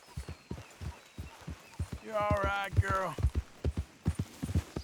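Horse hooves clip-clopping at a steady walk in the video game Red Dead Redemption 2, a rhythm of close dull thuds throughout while someone speaks briefly in the middle.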